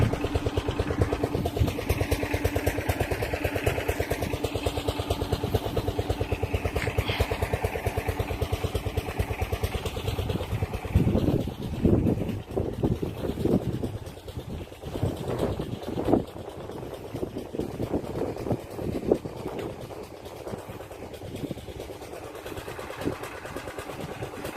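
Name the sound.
engine-driven water pump irrigating a rice field at night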